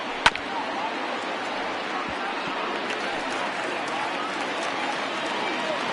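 A virtual stadium crowd of about 39,000 in MLB The Show 20 roars steadily on its feet as a San Diego batter faces a final strike, the broad noise holding for several seconds with a sharp knock near the start.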